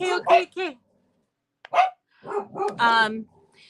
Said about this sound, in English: Sit under my feet and bark your head off.